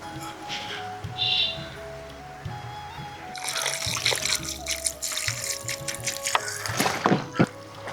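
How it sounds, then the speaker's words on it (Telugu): Mutton pieces are washed in water, with sloshing, trickling and splashing that grows busier and louder in the second half, close up and without talk. "ఇలా శుభ్రంగా కడుక్కోవాలి 2-3 సార్లు."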